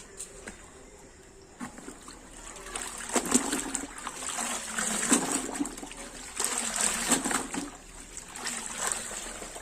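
A silk saree is sloshed and rinsed in a bucket of water, with repeated splashes, drips and trickles rising and falling close by, no talking.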